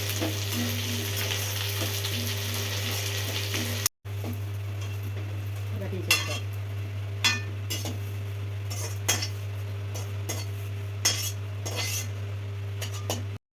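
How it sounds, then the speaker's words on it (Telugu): Curry leaves fry in oil with a light crackle under a steady low hum, broken by a short gap and then several sharp metallic clinks of a utensil against the pan, with no talking. "కరివేపాకులో కొంచెం నూనె వేసుకోండి కొద్దిగా వేగాలి కదా మరి కాస్త కరివేపాకు ఇలా వేయించుకోవాలి"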